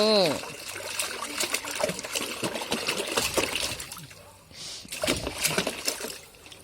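Water splashes and trickles over a small child's head during a bath, a wet pouring and sloshing that runs through the clip beneath the voices of people talking nearby.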